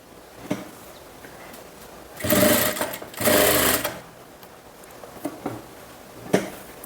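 Sewing machine running a straight stitch on a kurti: two short, loud whirring bursts of stitching, with light clicks and handling taps between them.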